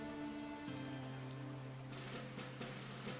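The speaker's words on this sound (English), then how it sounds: "rain is loud IRL, but most people don't want ear-deafening storms in games" Steady rain hisses across a surface in the survival crafting game Above Snakes, a dense, even wash of drops held at a moderate level with sustained musical tones underneath.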